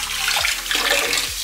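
Hot water gushes steadily from a tap over a frozen Coke Zero bottle, a loud, continuous splashing rush close by.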